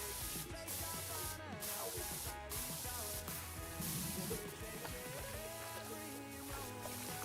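A pressure washer sprays the rotor blades in a cleaning video game, a constant dense hiss of water under layered game music, unbroken across the whole stretch at an even level.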